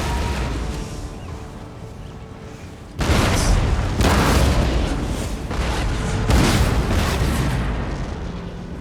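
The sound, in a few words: cannon fire from Empire: Total War video game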